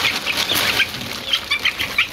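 Egyptian Fayoumi farm chickens clucking in a rapid run of short, bright calls, close and fairly loud over a constant background murmur of other birds.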